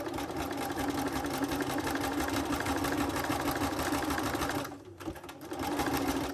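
A sewing machine stitches coiled sash cord into a rope bowl, a loud steady whirring drone that cuts off briefly near the end and then starts again, with no one talking.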